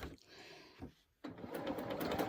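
A sewing machine stitching free-motion quilting circles on fabric in a hoop, its needle running in bursts with short pauses, then settling into a steady, fast rhythmic whirr.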